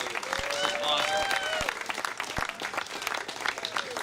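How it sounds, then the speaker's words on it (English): Wedding guests applauding the bride, a raucous round of clapping with cheers and lively voices over it, fairly close and continuous for several seconds. "give a raucous round of applause for Greta?"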